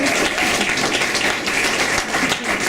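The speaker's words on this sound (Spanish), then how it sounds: "vamos a darle un fuerte aplauso a estos chicos" Audience applause, a dense steady clapping from a crowd that stays loud and even throughout without pausing.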